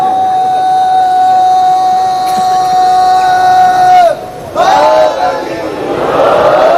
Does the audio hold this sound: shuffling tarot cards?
no